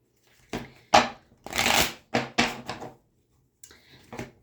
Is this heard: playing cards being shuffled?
yes